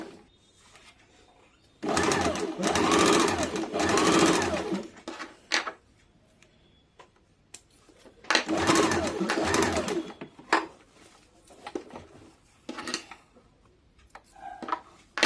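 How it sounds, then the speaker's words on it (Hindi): A sewing machine double-stitches tucks on a plain blouse in two loud running bursts, each lasting a few seconds, separated by quieter clicks and handling taps. "टेकिंग में डबल सिलाई डालेंगे, नहीं तो बाद में टेकिंग का धागा टूट जाता है"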